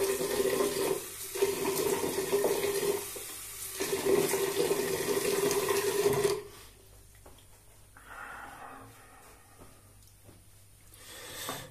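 Tap water running and splashing as a face is wetted before a wet shave, loud bursts of splashing with short pauses, then quieter dripping and handling sounds with faint breathing.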